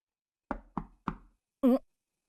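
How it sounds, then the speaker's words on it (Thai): Three sharp knocks on a door in the Naruto Ultimate Ninja Storm 4 video game, evenly spaced and close, followed by a short voiced sound. "มีคนเคาะ"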